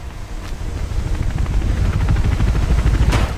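A helicopter in Mirror's Edge approaches with a loud, rapid rotor chop that builds steadily over a low rumble and wind noise.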